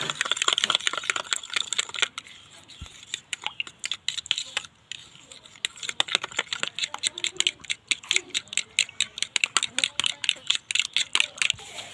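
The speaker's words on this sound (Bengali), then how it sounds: "ডিমগুলোকে আমি এখানে ফেটিয়ে নিব।" Eggs whisked in a bowl with coriander powder and spices while making a Bengali egg bhuna: quick, close clicking taps of the utensil against the bowl in uneven bursts, no talking.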